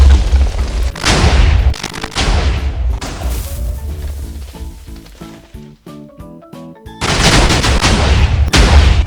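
TNT blocks exploding in Minecraft: a burst of loud, booming blasts near the start, then a quieter stretch with tonal game sounds, and a dense run of sustained explosions at the end.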